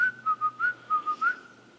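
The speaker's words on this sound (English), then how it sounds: "That was a lip whistle." In the woods, a lip whistle sounds as a run of about seven quick, evenly spaced pulses at a steady pitch with slight slides up and down, fading into quiet at the end.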